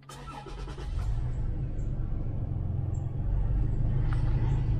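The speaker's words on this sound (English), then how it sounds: "Let's turn the car all the way on." Toyota Tacoma engine turning over and starting, a brief crank followed by a steady low idle rumble that continues close and alone.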